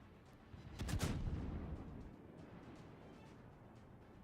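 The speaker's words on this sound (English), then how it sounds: "He's still firing HE at me" Naval guns firing high-explosive shells in World of Warships, a single muffled boom that swells and rolls away under a low rumble, fairly faint and with no voices.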